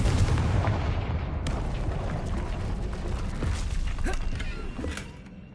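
A Confringo fire spell blast in the video game Hogwarts Legacy gives a deep rumbling boom, followed by crackling, creaking debris over continuous game ambience.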